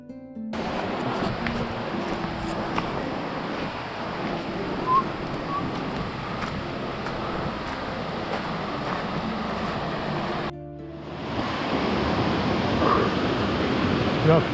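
A river near a waterfall on a forest trail in Bulgaria rushes steadily as broadband flowing water, close and continuous, with a brief dip before the roar returns a little stronger.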